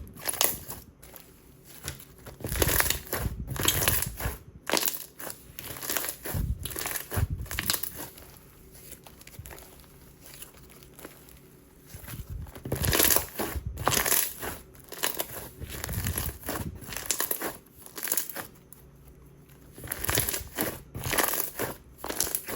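Crunchy blue slime with a double topping being squished and pressed by hand, making dense bursts of crackling, popping crunches in irregular waves, close and fairly loud.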